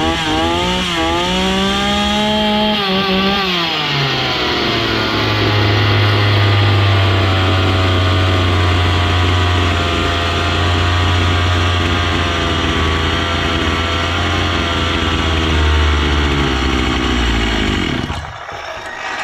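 A restored Husqvarna 61 chainsaw engine rises through a quick rev, then runs loud and close at a steady high-pitched buzz for about fifteen seconds before cutting out abruptly.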